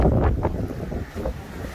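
Strong wind buffets the microphone on a small fishing boat out at sea, a steady low roar with gusty swells and no talking.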